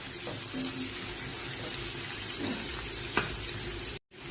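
Onions and green chillies fry in a pan for a bitter gourd gojju, giving a soft, steady sizzle with occasional scrapes and clicks, then a brief silence near the end.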